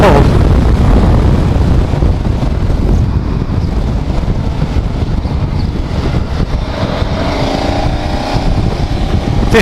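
A KTM 1190 Adventure motorcycle accelerates hard in fifth gear on a carriageway, its engine drone almost buried under loud, steady wind roar across the microphone.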